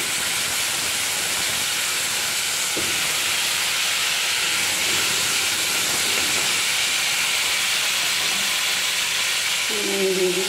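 Potato pieces frying in hot oil left over from frying fish, a steady broadband sizzle and hiss that runs the whole time, with a faint clank near the end.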